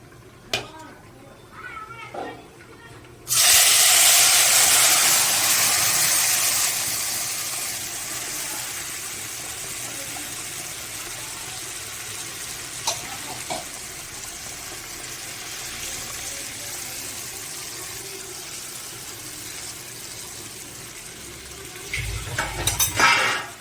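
Paste of two kinds of blended mustard, added to hot oil with nigella seeds for a hilsa curry, hits the pan with a sudden loud hiss that slowly settles into a steady sizzle, with a voice speaking nearby.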